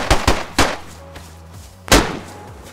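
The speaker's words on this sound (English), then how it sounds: "Did you just shoot them?" Loud, sharp gunshots in the survival video game DayZ: three quick reports in succession, a pause, then another heavy shot, each with a short booming tail.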